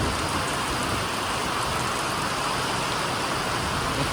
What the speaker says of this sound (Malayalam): ഒരു രക്ഷയില്ലാത്ത മഴ, തകർത്ത മഴ.